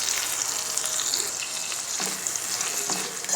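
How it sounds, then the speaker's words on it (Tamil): Cut tomatoes with mint and coriander leaves frying for chicken curry, a continuous close sizzle with light spatula scrapes. "நல்லா தக்காளி வதங்குற வரையும் நல்லா ஃப்ரை பண்ணி விடுங்க"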